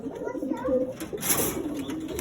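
Soft, repeated cooing of silver pigeons close by, low and throaty, with faint rustling in between.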